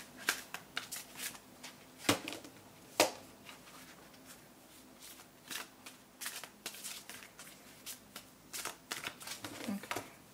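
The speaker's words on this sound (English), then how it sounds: "Couple more shuffles." Tarot cards being shuffled by hand produce repeated soft riffling clicks and snaps in uneven bursts, close and quiet, over a low steady hum.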